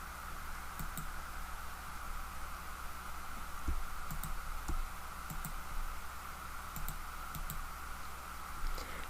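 A computer mouse clicks during spreadsheet data-mining work, with sparse light clicks and taps scattered over a steady background hiss and hum, sounding close but quiet.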